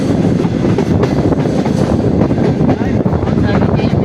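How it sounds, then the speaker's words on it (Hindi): Passenger train of the Green Line Express pulling into Bahawalpur station, a steady loud rumble of railcars and rail noise throughout with no distinct clacks, faint voices mixed in beneath. "यहाँ पे ट्रेन रुक रही है।"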